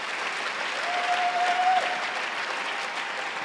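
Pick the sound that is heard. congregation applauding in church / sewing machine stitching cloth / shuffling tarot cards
congregation applauding in church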